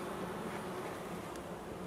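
Honey bees buzz around a beehive in a dense, steady drone with a low hum that fills the short stretch. It is continuous and fairly quiet, with no voices over it.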